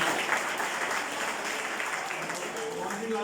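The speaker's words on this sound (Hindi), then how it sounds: "जोरदार तालियां बजा के" Audience applause for a student at a school celebration of Chandrashekhar Azad and Lokmanya Tilak's birth anniversaries at Kendriya Vidyalaya Rajgarh, a steady, fairly faint wash of clapping with voices mixed in.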